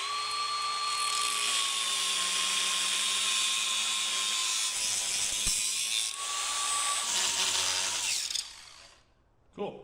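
A grinder works steadily on the metal of a rusted knuckle 44 during case repair and welding work, a loud continuous high whine that holds for about eight seconds before cutting out, then a brief restart.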